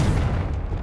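A Confringo blasting spell explodes in the Hogwarts Legacy video game, a short, heavy, booming blast heard close and loud, with its low rumble fading within a second.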